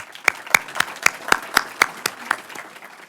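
An audience at a transit legislative forum claps in a steady, fairly even rhythm of distinct sharp hand claps, close and moderately loud.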